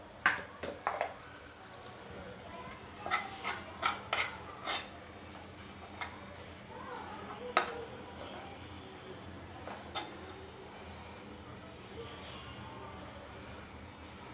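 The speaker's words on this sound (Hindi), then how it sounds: "4 चम्मच बेसन। अब इन सबको भूनेंगे।" Gram flour (besan) being dry-roasted in a pan, with a spoon clinking and scraping against the metal in scattered bursts, busier at first and then sparser, over a low steady background hum.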